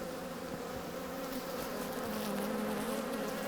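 Honey bees drone steadily in an open hive during a colony inspection, a dense, continuous buzz of many insects held close and loud throughout, with no talking.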